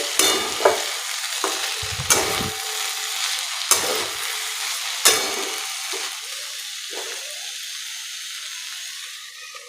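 Okra in a frying pan, dusted with chili powder, is stirred with a spoon: a steady sizzling hiss broken by several sharp scraping strokes spaced a second or two apart, then a calmer sizzle.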